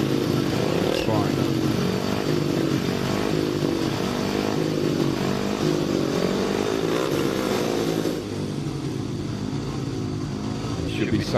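Speedway bikes in under-16 250cc and under-21 500cc solo championship racing roar continuously at close range, engines droning loud and steady before easing slightly near the end.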